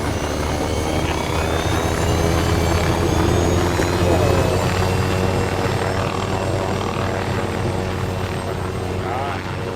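A video game helicopter's rotor thrums loudly and continuously, close by, with a steady engine whine; a voice speaks faintly beneath the noise.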